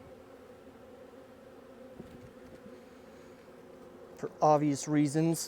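Honeybees hum steadily at an opened hive during fall inspection, a close, continuous drone that carries on alone before a person starts talking over it.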